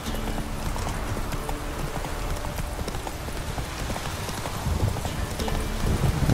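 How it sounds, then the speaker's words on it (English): Rain falls in The Witcher 3 as a dense, steady hiss across the whole stretch, with rhythmic horse hoofbeats clopping loudly over it and no speech. "It's raining."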